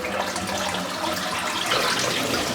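Water draining out of a bathroom sink after a head shave, a steady gurgling, rushing flow close by, continuous for a couple of seconds with no talking.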